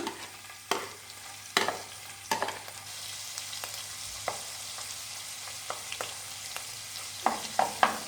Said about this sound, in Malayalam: ഇഞ്ചിയും പച്ചമുളകും ഇട്ട് കൊടുക്കാൻ പോവാണ്.